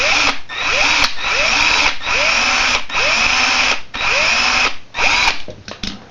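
A small, fragile drill bit bores into a Hot Wheels toy car in short, loud whining bursts that spin up and cut off in a steady stop-start rhythm, close and alone.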